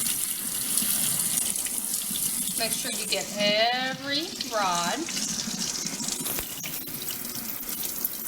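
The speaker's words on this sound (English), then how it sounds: "You're gonna have to get your head right underneath the faucet." Steady rush of water from a faucet or sink sprayer rinsing hair during an at-home perm, a continuous hiss that runs under a brief spoken instruction partway through.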